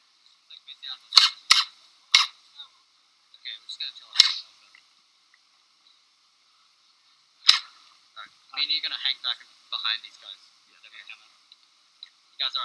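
Gel blasters firing outdoors in a skirmish game, sharp snapping shots in quick bursts and scattered single pops, some near and loud, others fainter, with voices talking between the volleys.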